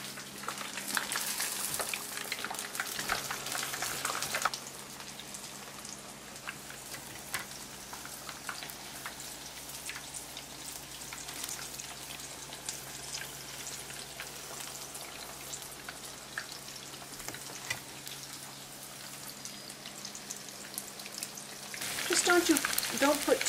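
Tempura-battered sweet potato, red pepper and chicken frying in hot oil, a steady close crackling sizzle throughout, louder at the start and again at the end, with no talk.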